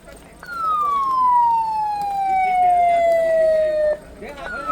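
An ambulance siren on a street in Ujjain, rushing a young girl for urgent care, sounds close and loud as one long wail that slides steadily downward, cuts off, then starts a fresh sweep.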